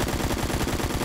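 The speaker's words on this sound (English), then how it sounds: "I am getting shot at." Rapid automatic gunfire in the Phantom Forces first-person shooter game, a loud, dense burst of evenly spaced shots filling the whole moment.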